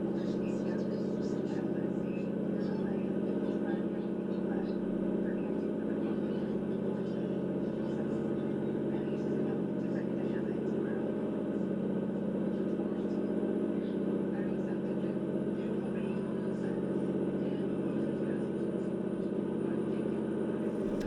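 Truck engine drone from American Truck Simulator, a steady low mid-pitched hum with road rumble running unbroken throughout while the rig cruises at a governed top speed of about 72 miles an hour.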